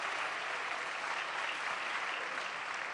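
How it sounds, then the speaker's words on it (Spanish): Sustained applause from a crowd honoring a team at a presidential announcement event, dense and even clapping that stays loud throughout without pause. "Un aplauso para el equipo, un aplauso para el equipo."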